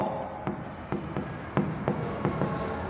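Chalk or marker strokes on a board while an accounts problem is worked out, a series of sharp scratchy taps about every half second over a steady room hum, with no talk.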